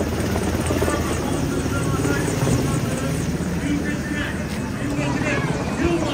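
A gendarmerie special operations display helicopter passes low over a monument area in İskenderun, a steady loud rotor roar filling the whole stretch with broadband wash and no letup.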